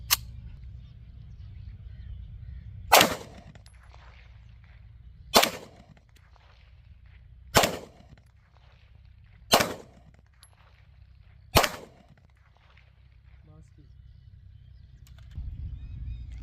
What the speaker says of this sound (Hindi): ये तिसास का ज़ेगाना एफ है, पाक मेड है। इसमें 6 बुलेट हैं। देखते हैं, फायर करते हैं